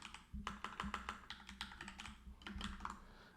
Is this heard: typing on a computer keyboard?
yes